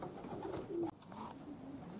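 A racing pigeon coos softly once or twice, close by, against a quiet background.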